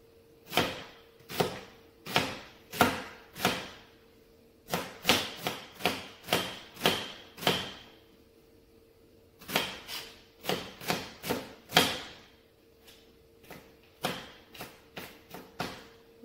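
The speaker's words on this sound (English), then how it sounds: "I'm going to cut up my vegetables because I have to saute the onions first." A knife chops onions and other vegetables on a cutting board for Korean chicken and rice porridge, each stroke a sharp knock in quick irregular runs, with a pause midway before the chopping picks up again, close and clear with no talk.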